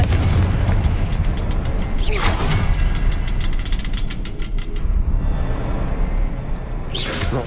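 Confringo fire spell explosions in Hogwarts Legacy inside a cavern, deep rumbling booms with sharp bursts near the start and end, over continuous loud background game noise.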